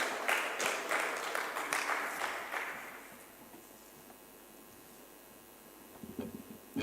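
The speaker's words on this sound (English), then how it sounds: "please let's give him a warm applause as he joins us" Conference audience applause at the opening of a speech, a burst of dense clapping for about three seconds that fades out into a quiet room, with a few stray claps near the end.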